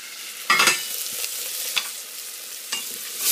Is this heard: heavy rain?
no